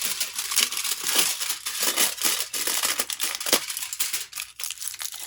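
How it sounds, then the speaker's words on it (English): Continuous crinkling and crushing of kitchen tin foil, crackly bursts in an irregular rhythm, close and fairly loud with no talking. "And all we're going to do is crinkle it up."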